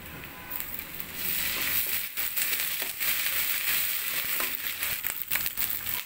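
Onion, ginger, garlic and spices sizzle and crackle in a hot pan with oil, a steady, bright frying hiss heard up close with no talking.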